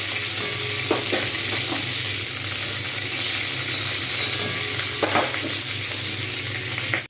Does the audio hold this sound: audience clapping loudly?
no